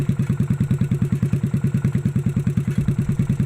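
Engine of a 1957 Bolens tractor running smoothly at a steady speed: a loud, close, even chugging thump with a regular rapid beat, alone throughout.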